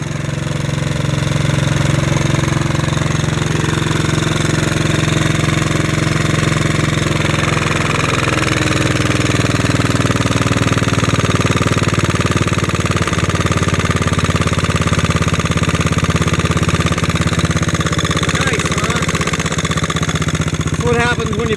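WW2 BMW R35 motorcycle fitted with an R4 cylinder and a Bing carburetor, engine running with a steady close thumping idle throughout, with a voice talking faintly over it.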